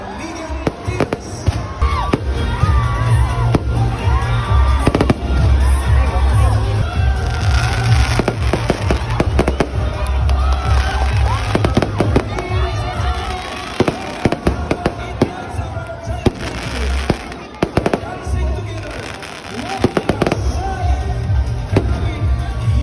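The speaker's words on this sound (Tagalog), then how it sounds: "Ngan may dahira pa fireworks kulawin niyo." Fireworks over a giant lantern festival in Can-avid, Eastern Samar: a dense barrage of loud booms and crackling bursts, fired in rapid irregular succession, with a crowd murmuring and voices mixed underneath.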